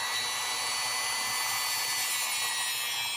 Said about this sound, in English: we're going to use these little wispy wheels right here. And I'm going to clean up those shaft areas